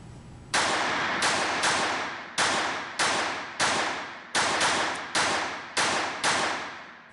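Eight sharp shots from a Walther PPK/S .22 pistol fired at a target, each a loud crack with a short decaying ring, spaced irregularly about a second apart with no talk.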